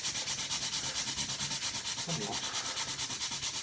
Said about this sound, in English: I'm going to need to sand this down, but now this, it's sanding the wood down to the knot